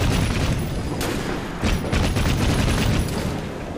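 Dense, continuous gunfire from the Victorian-era game Assassin's Creed Syndicate, rapid overlapping shots and booms filling the whole stretch at a steady, loud level with no talk.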